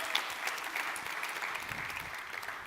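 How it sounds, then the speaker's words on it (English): Conference audience applauding steadily at the NEARCON 2023 Layer One stage, a dense wash of many hands clapping at moderate volume without a break. "Another round of applause."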